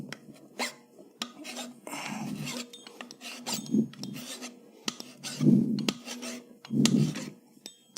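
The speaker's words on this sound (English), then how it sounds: "I'm going to a slightly finer file" A finer hand file smooths a metal part in a garage turbo Miata build, making repeated close rasping strokes in uneven bursts, some stroke groups louder and longer than others, with no voices.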